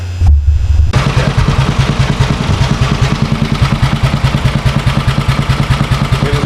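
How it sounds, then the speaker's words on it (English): A hotrod lawn mower's small engine cranks, catches and settles into a loud, fast, steady thumping run with rattling mechanical clatter, close by and with no talk. "we'll start this thing up for you guys and show you the carburetor and let you hear it run"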